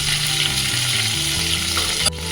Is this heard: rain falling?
no